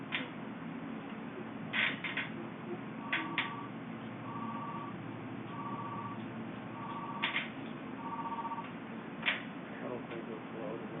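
A call being dialed on a 210 telephone, a series of short tone bursts and clicks spaced through the clip, quiet and close over a low background hiss.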